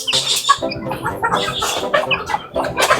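A mother hen clucks loudly and close by with her chicks, giving a run of throaty, rhythmic clucks with soft peeping mixed in.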